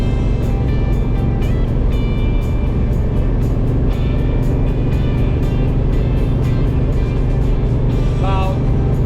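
A 1979 El Camino's engine drones steadily at around 2,900 RPM while the car is driving, a loud continuous low rumble throughout, with faint intermittent clicks and a brief higher whine near the end.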